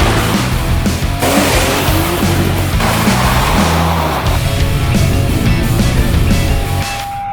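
A Maserati Biturbo 4.24v under restoration runs with a loud, steady engine drone throughout, the revs shifting and dropping partway through, with no voices.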